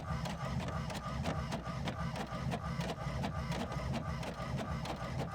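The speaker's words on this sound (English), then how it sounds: "And here they come out of my very slow printer." A slow printer prints a sheet of stickers with a steady, rhythmic run of mechanical clicks and whirring. It is close and continuous, with no talk over it.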